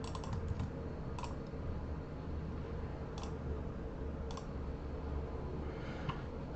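Computer keyboard typing while editing a WordPress portfolio site, steady soft key clicks over a constant background hum, with a few brief bursts of quicker, sharper keystrokes.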